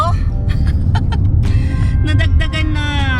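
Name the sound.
heavy road traffic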